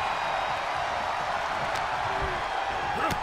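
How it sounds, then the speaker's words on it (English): Arena crowd noise from a WWE 2K23 wrestling match, a steady dense roar of cheering that holds loud and continuous throughout, with no clear voices over it. "The sound of this crowd is deafening,"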